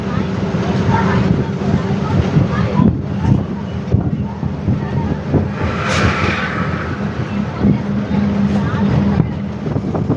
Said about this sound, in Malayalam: അങ്ങനെ ഇനി നമ്മുടെ ബസ് ഇവിടെ നിന്നും വീണ്ടും ഹൈവേയിലേക്ക് കയറും